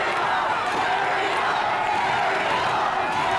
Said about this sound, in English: The whole crowd's up, stomping, yelling for Ariel, trying to give her some motivation to get through this spot.